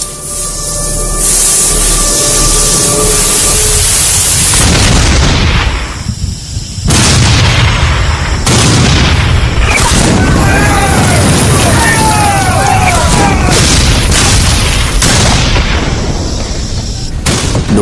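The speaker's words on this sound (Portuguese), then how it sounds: "Fogo de artilharia e de mosquetes trovejava e explodia por toda parte." Artillery and musket fire at the Battle of Gettysburg, July 2, 1863: repeated heavy booms and crackling volleys, loud and close, layered in rapid succession with some voices underneath.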